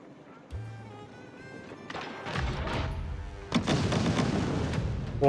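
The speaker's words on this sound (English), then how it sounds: "Wall is now under fire, taking a bit of damage there." Siege fire pounding stone walls in Age of Empires 4, a run of heavy booms and crunching thuds that builds from a low rumble into dense repeated impacts, loud and close.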